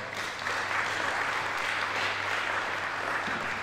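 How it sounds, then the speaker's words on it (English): Applause from a meeting audience celebrating everyone present, a steady wash of clapping at moderate volume that holds evenly throughout, with no voices on top. "So a round of applause for everybody"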